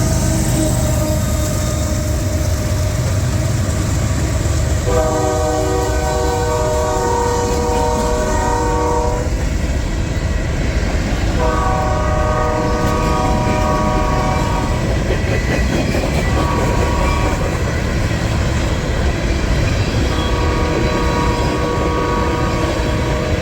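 A freight train rumbles steadily past close by, loud and continuous, while its horn sounds a long blast, another long blast, a short one and a final long blast over the roar of the rolling cars.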